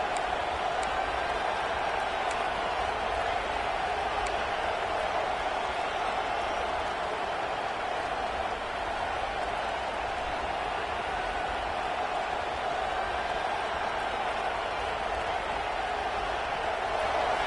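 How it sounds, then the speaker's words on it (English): Steady, dense roar of a large stadium crowd at a Wildcats vs Ducks football game, constant and loud throughout with no breaks, a broad wash of many distant voices. "This crowd bringing the energy and noise early."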